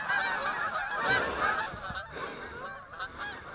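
A flock of Canada geese honks overhead, many layered calls overlapping continuously at moderate distance with no talk.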